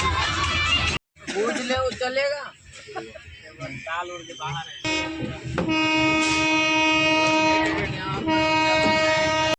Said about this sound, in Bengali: ট্রেনের প্রচণ্ড সাউন্ড